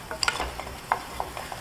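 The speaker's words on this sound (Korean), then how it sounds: "골고루 색깔 날 수 있도록 이렇게 휘저으면서 색깔을 내주세요." A roux for beef stew is stirred in a pot over medium to high heat, giving soft scraping strokes and light sizzling in short irregular bursts, close and fairly quiet, with no voices.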